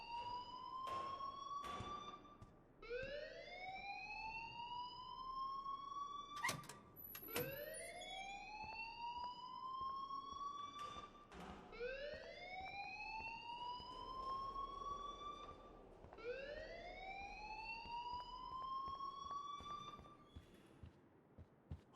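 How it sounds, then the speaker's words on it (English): Alarm blaring in the video game Life is Strange: a loud rising electronic siren tone repeating in long sweeps every few seconds, with sharp clicks and knocks between them and no voices. "please turn off that alarm since that's your job"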